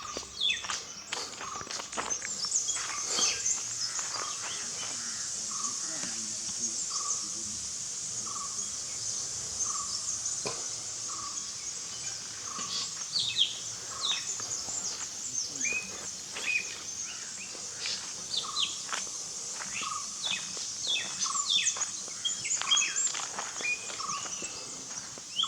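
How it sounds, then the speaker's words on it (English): Many birds chirp and call in a forest setting in the Konkan region, with barbets and peacocks among them, a dense layer of high, steady chatter and scattered sharp chirps running continuously over a faint background. "that is the chirping of the birds"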